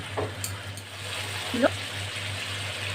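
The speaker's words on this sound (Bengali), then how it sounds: "এভাবে একটা একটা করে মাছগুলো আমি দিয়ে দিচ্ছি" Pomfret fish pieces hiss and sizzle as they are laid one by one into a hot pan for pomfret rezala, a steady close frying sound with a brief louder burst midway and a low stove hum beneath.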